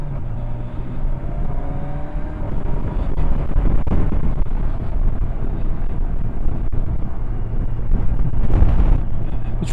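A Kawasaki Versys 1000 SE motorcycle rides down country lanes, its engine rumbling and revving up and down with gear changes, mixed with heavy wind buffeting on the microphone.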